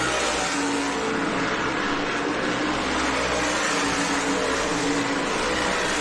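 Race cars in the ROC Race of Champions 150 roar together through turn 4, a loud, steady engine drone with revving layers running continuously without pause.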